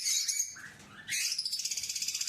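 Albino and lutino Fischer's lovebirds in an aviary give shrill chirps, a burst, a short lull, then a rapid rhythmic run of tweets, fairly close.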